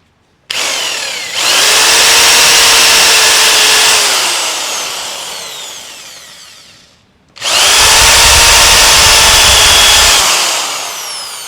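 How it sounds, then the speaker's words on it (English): An electric drill with a center drill bores into old rivets, whining loudly in two long bursts, starting and stopping with a brief pause between, close and harsh with grinding undertones. "I'm just starting with the center drill in the electric drill."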